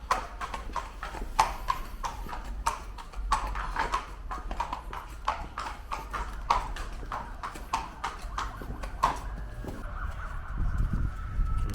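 Polish horses walk on a hard surface, their hooves striking in a steady clip-clop rhythm of crisp, close hits that continues for several seconds against a low background rumble.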